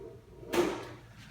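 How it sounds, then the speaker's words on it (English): Electrical access panel door on a Hydro-Temp VStar unit being removed, a single brief scraping metallic clatter, close and moderately loud, then a short fading rustle. "Remove the electrical access panel door"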